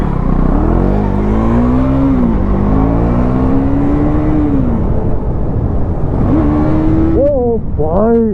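A KTM Duke 390 motorcycle revving and pulling hard, its engine note climbing and falling in long sweeps, then sharp rising revs near the end, heard close and loud with a voice talking over it.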